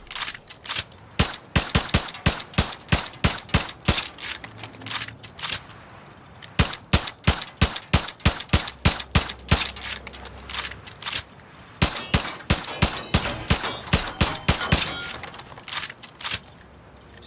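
Rapid bursts of gunfire from an elite weapon loaded with piercing ammo in Far Cry New Dawn, loud sharp cracks firing in quick strings with short pauses between volleys, close and without talk.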